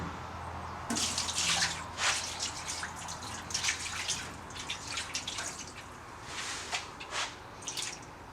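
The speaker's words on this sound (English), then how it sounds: "Alright, time to rinse." Water splashes and sprays across a rust-treated, epoxy-coated car panel being rinsed, in irregular bursts of hissing spatter and dripping over several seconds, fairly close and with no talking.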